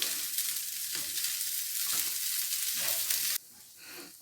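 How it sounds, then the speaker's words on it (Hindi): Chicken patty filling fries in a pan over a low flame, a steady close sizzle with light stirring, then briefly quieter near the end. "लो फ्लेम पे आपने इसे फ्राई करना है।"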